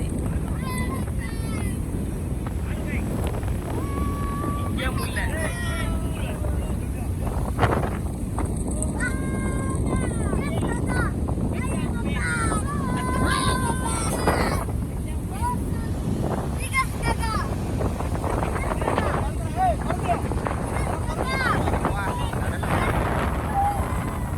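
Rough, stormy sea churned up by a cyclone, with heavy wind buffeting the microphone in a steady roar and waves surging underneath, while voices talk over it.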